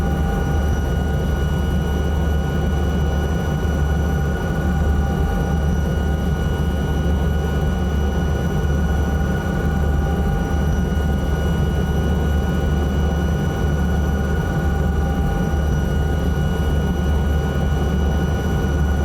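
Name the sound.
Alouette 3 helicopter flying in Microsoft Flight Simulator 2024 video game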